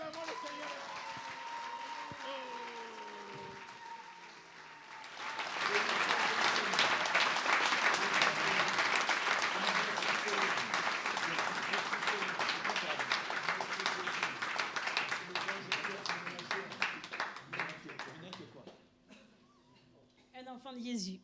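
A church congregation breaks into loud, sustained applause lasting about twelve seconds, and a voice speaks over the crowd before and during it.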